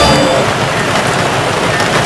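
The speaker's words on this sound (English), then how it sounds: "Tropical afternoon rains bring the village to a near standstill." A tropical afternoon rain falls on a Javanese village, giving a brief, loud, steady wash of rushing noise with no voices.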